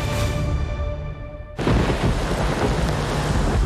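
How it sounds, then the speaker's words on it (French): A violent nighttime thunderstorm on an island, with a camp being flooded: a sudden loud, broadband crash of thunder and driving rain bursts in partway through and roars on steadily, following a quieter, tonal stretch. "une violente tempête surprend les hommes et leurs tentatrices. Le camp est totalement inondé."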